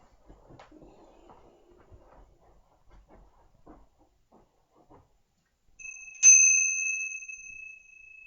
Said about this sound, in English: Catholic altar bell